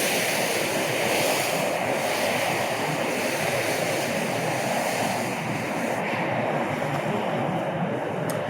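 Water pouring over a dam near DeSoto Falls in Mentone, Alabama, a loud, constant broadband rush filling the whole stretch, with wind buffeting the microphone.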